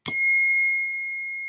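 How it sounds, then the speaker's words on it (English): A newly bought zen bell struck once, a bright sharp strike followed by a clear sustained ring that slowly fades, heard alone and close. "Ugh, I bought a new Zen bell, and it's not really zenning."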